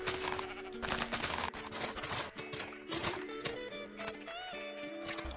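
Sheep bleating in the Minecraft modpack GregTech New Horizons, several repeated wavering bleats over dense game sounds and music.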